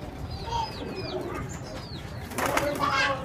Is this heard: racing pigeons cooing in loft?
yes